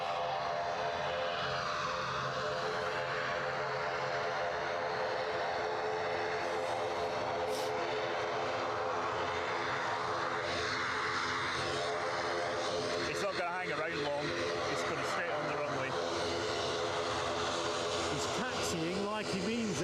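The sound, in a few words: Loganair ATR 72-600 turboprop taking off for Kirkwall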